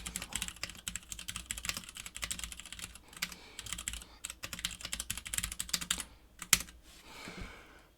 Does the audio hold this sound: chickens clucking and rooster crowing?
no